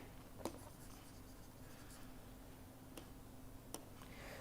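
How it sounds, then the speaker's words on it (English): Devanagari script is written by hand in a quiet room, producing soft, continuous scratching with a few faint ticks and taps from the writing tool. "I'll just write that for you again."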